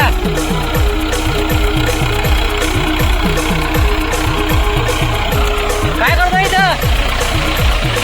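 A tractor engine chugs at a steady, rhythmic idle on a rural cricket ground being cleared, loud and close with regular pulsing knocks; a brief whistling squeal rises near the end, and someone talks over the engine.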